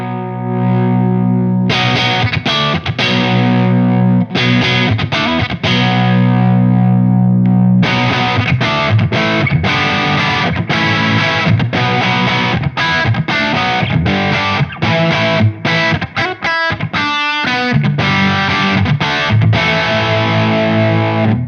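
Electric guitar played through a Wampler Pantheon overdrive pedal set to low gain and high volume, loud crunchy strummed chords and riffs with a short pause early on, continuous and alone without talk.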